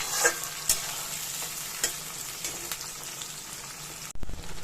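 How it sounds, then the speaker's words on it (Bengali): Ginger garlic paste being stirred into onions frying in a pan, with steady close sizzling and scraping stir strokes throughout, a few sharper clinks of the spoon, ending in a brief louder clatter. "আদা রসুনের পেস্টটা দিয়ে নাড়াচাড়া করি"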